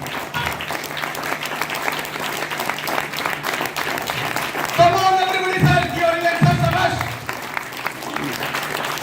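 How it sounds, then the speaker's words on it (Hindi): Audience applause for a speaker at a seminar, a steady wash of many hands clapping at moderate distance, with a voice over a public address system talking throughout. "शानदार जोरदार तालियों के बीच में मैं बोलना चाहूंगा मिस्टर रामदास सर स्टेशन"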